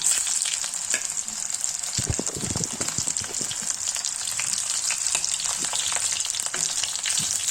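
Medium-sized potato pieces fry in hot oil in a kadai, giving a steady bright sizzle throughout, with louder crackling bursts and stirring clatter after the first couple of seconds; no one speaks.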